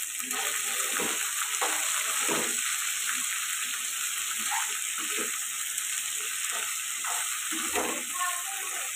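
Chopped okra (bhindi) sizzling steadily in a pan for a home-style fry, with a constant bright crackle and occasional soft stirring scrapes, close and continuous.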